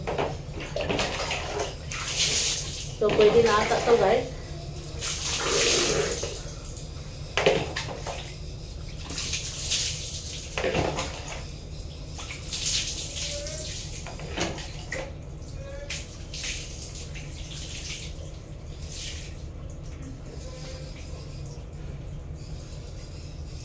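A tap runs weakly for bathing, water splashing and pouring into a bucket or tub in irregular bursts over about twenty seconds, close and fairly loud, with a brief spoken line near the end.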